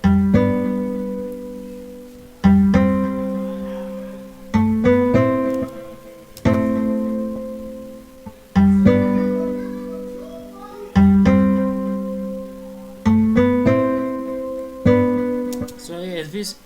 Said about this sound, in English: this is a plugin called expand called soft nylon strings